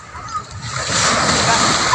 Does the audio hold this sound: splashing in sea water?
yes